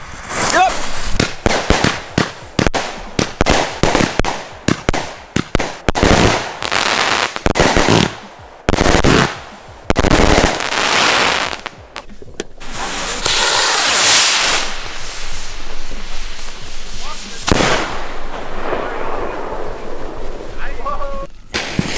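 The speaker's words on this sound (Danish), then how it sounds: "Frontline Fire, 128 skuds batteri, 1000 gram, 50 sekunder siger den" A Frontline Fire 128-shot, 1000-gram fireworks battery fires at New Year's Eve: rapid loud cracking bursts in quick succession, then a dense crackling roar, with people talking and shouting over it.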